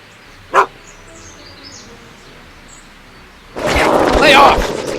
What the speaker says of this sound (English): Get away from me, you crazy mutt! Go away, dog.